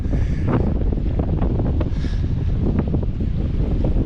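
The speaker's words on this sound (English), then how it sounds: "It is windy, it is cold" Strong wind buffets the microphone at a cold seaside pier, a loud, steady roar with gusty low rumble throughout and no talking.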